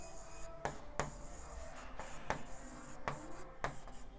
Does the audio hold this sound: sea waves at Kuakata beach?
no